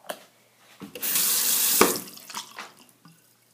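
A sink tap runs briefly to wet fingers: a few drips and clicks, then a strong rush of water for about a second before it tapers off into trickles.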